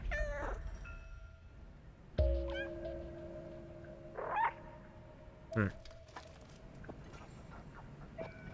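A cat meows repeatedly in the video game Stray, several clear, drawn-out cries spaced a second or two apart over a low background hum.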